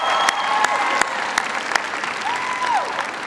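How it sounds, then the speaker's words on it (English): Sustained crowd applause at a political rally in New Jersey, dense and continuous clapping filling the space with a few sharper claps standing out, no voices on top. "Give them a big round of applause."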